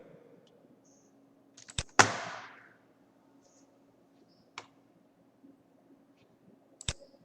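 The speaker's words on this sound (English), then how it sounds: "I'm going to click here." A computer mouse clicks a few times in a quiet room during an on-screen maths construction lesson, with sharp isolated clicks near 2, 4.6 and 6.9 seconds and one louder click and rustle around 2 seconds.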